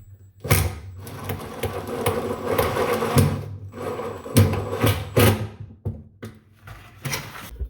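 One-inch screws are driven at an angle into a kitchen cabinet during an undermount sink install, making loud, close, buzzing power-driver bursts separated by brief pauses.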